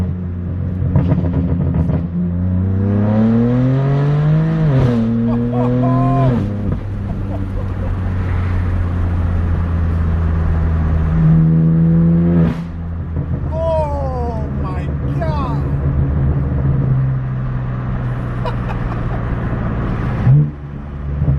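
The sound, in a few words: straight-piped BMW M4 F82 exhaust revving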